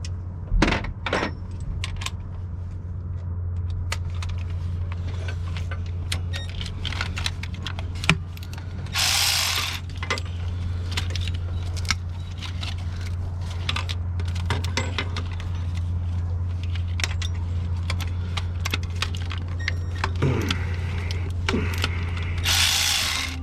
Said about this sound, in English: I'm just going to take all these bolts out.